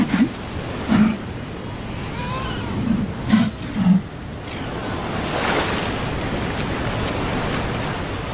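Ocean waves breaking and washing onto a seal beach, a steady broad surf roar that swells and builds toward the end, with brief low animal-like calls heard in the first few seconds.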